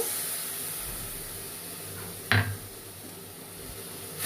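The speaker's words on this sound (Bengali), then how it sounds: "আমি মশলাটা দিয়ে দিই মশলার মধ্যে আমি এইটাও দিয়ে দিলাম এটা হচ্ছে হলুদ আর লঙ্কা" Turmeric and chili paste hits hot oil with five-spice, a sudden sharp sizzle and clatter standing out against a low steady hiss of cooking, close and moderately loud.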